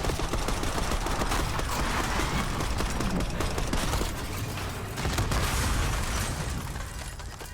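Sustained heavy gunfire in a Call of Duty Black Ops 6 cutscene, with dense overlapping bursts and blasts firing at a limo coming down a street. It stays loud and continuous throughout and eases slightly near the end.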